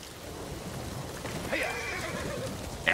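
A horse whinnies in the video game Ghost of Tsushima, a rising neigh partway through and another sharp call at the end, over a steady background of rain-like ambience.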